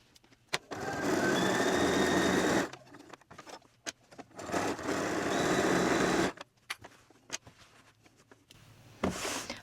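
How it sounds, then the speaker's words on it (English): A sewing machine back stitches over the pocket of a quilted tote bag in two long, steady, loud whirring runs. Short clicks and handling noises fill the pauses between the runs. "I'm going to go back stitch over the actual pocket part a couple times"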